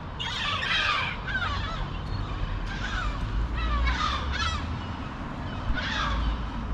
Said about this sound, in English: the seagulls are like attack dogs here